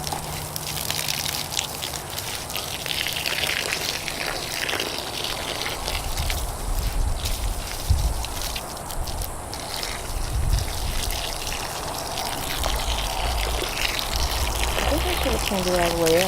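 Water from a garden hose runs and splashes into a planting hole for a Kent mango tree as dirt is filled back in, a steady trickling gush with soft thumps of soil.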